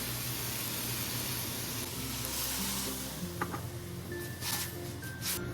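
Water hits a hot pan of sautéed bangus (milkfish) for totsong bangus, a steady sizzling hiss that holds through the clip with faint stirring clicks and scrapes near the end.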